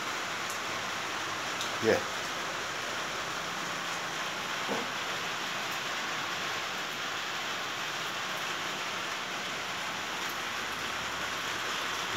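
Steady rain hisses evenly throughout, with a couple of brief knocks and a short spoken word early on.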